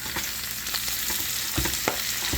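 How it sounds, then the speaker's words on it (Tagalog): Banana heart (puso ng saging) for lagat puso, a Kapampangan dish, frying and being stirred in a pan, with a steady close sizzle broken by a few scraping stirs. "Halo-haloin lang to."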